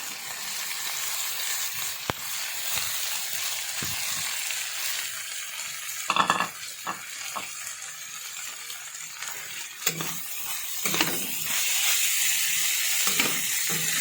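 Bean sprouts go into a hot pan with carrots, beans and cabbage for stir-fried vegetables with tofu, giving a steady loud sizzle with occasional scraping stirs and clinks.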